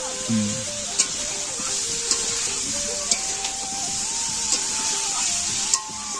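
Meat cooks in a pan with steady frying and a constant sizzle, and a spoon stirs it with faint regular taps about once a second. A voice is heard briefly.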